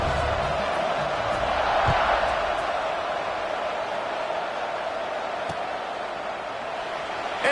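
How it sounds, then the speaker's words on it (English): A football stadium crowd buzzes after a score, a steady, dense roar of many voices that holds at an even level throughout, broad and distant-sounding with no single voice standing out. "this crowd is buzzing after that last score"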